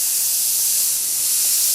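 An airbrush sprays paint in a continuous bright hiss, close and steady throughout with no pauses, while a beveled edge is faded from hard at the edge toward the center.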